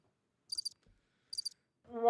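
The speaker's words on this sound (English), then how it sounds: "Crickets." Crickets chirping in two short, faint trilled bursts against near silence, followed by the onset of another sound at the end.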